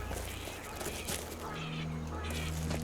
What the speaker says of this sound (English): Oh, some weird birds here.